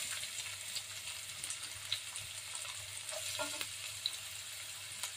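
Onion fries in a pan with a steady, bright sizzle and occasional stirring clicks and scrapes, close up and with no one talking.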